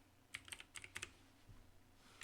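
A burst of brisk, close keystrokes on a computer keyboard, several sharp clicks in quick succession, then a few softer taps trailing off, with no voices.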